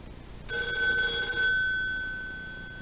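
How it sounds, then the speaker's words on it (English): A vintage rotary telephone's bell rings once through an XLINK BTTN Bluetooth gateway, a loud metallic ring about a second long that fades away, no talking. "So now, let's see how the ringer is."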